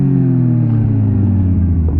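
Kawasaki ZX-10 sport bike engine rumbling close by at a steady idle, a deep continuous low drone with layered harmonics and no voices over it.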